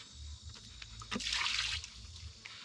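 Water poured from a bucket onto leftover building material for a shed ramp, a brief close splashing gush lasting about half a second amid quieter trickles and low background rumble.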